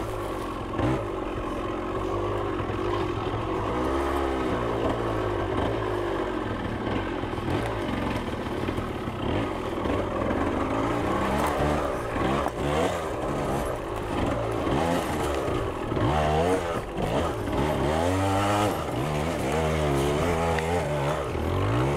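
A 1978 Yamaha DT175 trials motorcycle runs a lap, its two-stroke engine buzzing steadily and close by, revving up and down through the whole stretch with no talking.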